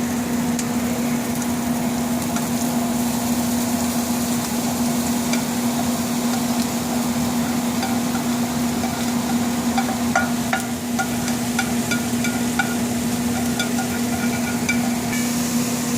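A steady, dense sizzle of crumbled tofu and onions frying in a hot pan, constant and fairly loud, with occasional faint clicks of stirring and no voices.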